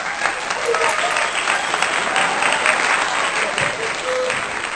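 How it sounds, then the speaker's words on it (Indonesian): Steady, enthusiastic applause from a school crowd welcoming the first speaker at a student rally, dense clapping that continues evenly throughout with faint voices underneath. "mari kita sambut orator pertama kita dengan tepuk tangannya semangat"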